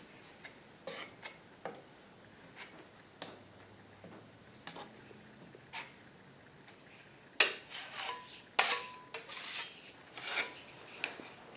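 Spackle being spread over a drywall hole patch with a spackling tool, a series of close scraping strokes, faint and sparse at first, then louder rasping swipes later, with no voices.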